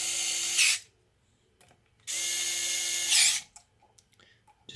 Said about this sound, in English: Just putting the screws back on.